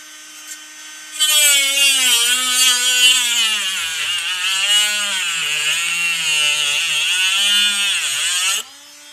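A Parkside 12V cordless angle grinder whines steadily at high pitch for several seconds while cutting plastic, its tone dipping and rising under load, then cuts off abruptly as it jams.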